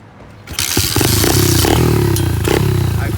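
Dirt bike engine catches after a brief scrape and then runs loud and close at a steady rattling idle-to-rev drone for the rest of the clip.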